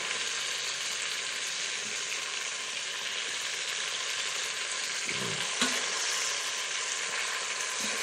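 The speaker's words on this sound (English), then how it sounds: "let's go ahead and move these around, get them all browned" A cheap cut of beef browns in a hot pan with a steady, close sizzle, joined midway by a few soft shuffling knocks as the pieces are moved around.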